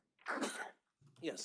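Someone sneezes in a courtroom, two quick close bursts about a second apart, with a short spoken word in between.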